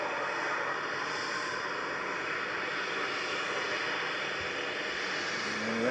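An easyJet airliner touches down at Manchester Airport after a flight from Malaga, its engines a steady, distant broadband roar across the whole short stretch, with no voices.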